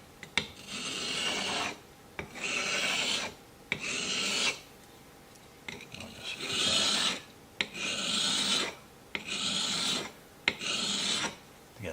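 Chisel being sharpened on a sharpening stone, from a chisel jig kit and stone set: seven or eight rhythmic rasping strokes, each about a second long with short pauses between, close and clear with no talking.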